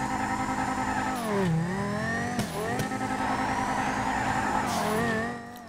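A Banshee sports car in Grand Theft Auto revs hard through a steady engine drone, the pitch dipping and surging twice as the revs kick in with a burst of speed, loud and close with no talk.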